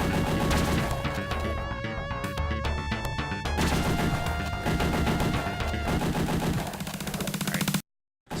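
Rapid gunfire in the Aliens video game, dense automatic bursts and single shots layered over loud game sound, running nearly continuously before cutting abruptly to silence near the end.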